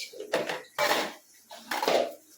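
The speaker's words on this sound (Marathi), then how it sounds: "टॉईस नको भांडे पाहिजेत खेळायला" Metal pots and utensils clang and rattle in three quick bursts, close by, like a child banging and shuffling kitchenware.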